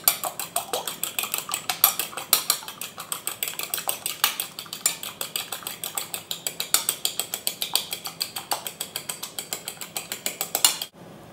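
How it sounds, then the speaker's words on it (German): Egg whites are whisked until stiff for crêpe batter: a rapid, steady clatter of a whisk striking the bowl, repeating evenly and close for about eleven seconds before stopping abruptly, with no talk. "Schlagt jetzt das Eiweiß steif."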